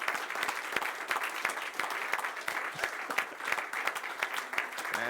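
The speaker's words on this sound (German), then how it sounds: "round of 5, applause." An audience at a hypnosis show in Germany claps steadily throughout, a dense, even applause of many hands with a faint voice underneath.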